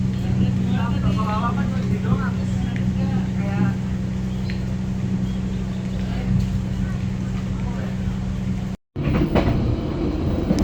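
The Bengawan passenger train rumbles along after leaving Cirebon station, a steady low drone with rattling carriages, heard from inside the coach while a person talks over it, then a brief dropout before the noise resumes.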